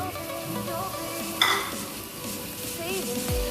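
Ginger, curry leaves and green chillies sauté in a pan while being stirred. The cooking noise runs steadily throughout, with a brief sharper clink near the middle and some tonal background sounds.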